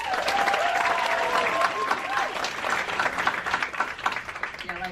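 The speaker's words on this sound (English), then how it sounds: "I like how I paused for the applause." An audience at a book festival claps steadily for about five seconds, dense and fairly loud throughout, with a few voices and a speaking voice mixed in under the clapping.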